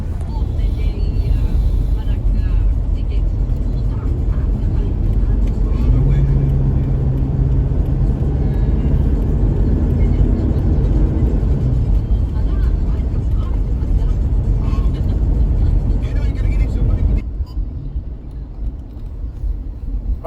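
A car driving on a road in the northern Philippines gives a loud, steady cabin rumble with wind and road noise that drops away near the end, with no clear talk over it.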